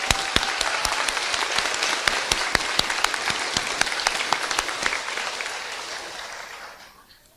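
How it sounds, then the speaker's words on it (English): Graduates at a high school graduation ceremony break into sustained applause, dense steady clapping from a large crowd that fades out over the last second. "please give yourself a round of applause because we did it"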